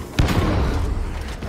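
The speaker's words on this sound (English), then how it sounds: "That barrel's going to explode!" A barrel blows up in Warhammer 40,000: Darktide, a sudden loud boom followed by a rumbling, crackling tail that fades over about a second and a half.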